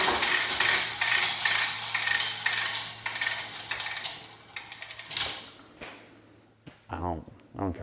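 A garage hose reel winding a pressure washer hose back in with controlled retraction, a busy rattling, clicking mechanical run followed by a few separate clacks, with someone speaking near the end.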